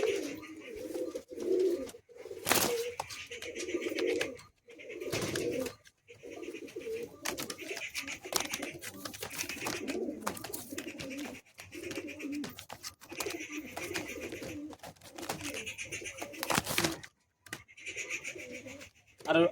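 Madrasi pigeons cooing close by in repeated soft, throaty bursts, with some rustling and faint handling noise between calls.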